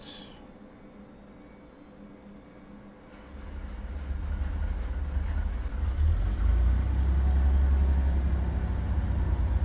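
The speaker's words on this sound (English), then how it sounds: "that engine might be a little too loud" A simulated aircraft engine in Flight Simulator 2002 starts after a short quiet stretch, then grows into a loud, steady low drone that keeps building and holds.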